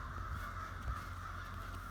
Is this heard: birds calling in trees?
yes